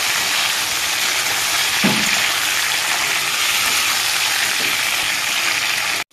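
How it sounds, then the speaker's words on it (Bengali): Cut pointed gourd (potol) pieces fry lightly in hot oil, giving a steady, even sizzling hiss that stays level throughout, with a soft stirring knock near the middle before the sound cuts off abruptly at the end. "পটলটাকে আমি ভেজে নেব, হালকা ভেজে নেব, নাড়িয়ে চেড়ে।"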